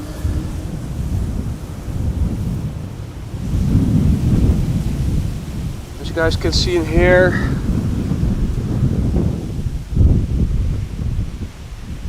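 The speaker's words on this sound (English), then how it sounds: "As you can hear, it's a windy day over here, 17 knots of wind" Strong gusting wind at an airport on a 17-knot windy day buffets the microphone with a steady low roar and rumble throughout, while a person talks over it.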